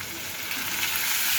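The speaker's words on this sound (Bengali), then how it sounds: "মশলাটা ভালোভাবে কষিয়ে নিচ্ছি।" Ground turmeric, chili, coriander and cumin sautéing in a pan with a little water, a short close steady sizzle with faint stirring and no voices.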